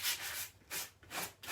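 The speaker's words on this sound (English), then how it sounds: "I might need a rougher sanding pad." Hand sanding of a painted resin bar with a sanding pad, a steady abrasive scrubbing in three long back-and-forth strokes, close and fairly loud with no talk.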